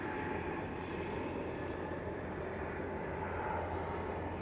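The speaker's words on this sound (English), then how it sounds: "So Lufthansa A320 Neo heading off to Munich, or back to Munich." A Lufthansa Airbus A320neo departing Manchester for Munich makes a steady, moderately distant jet engine roar that holds constant throughout, with no voices.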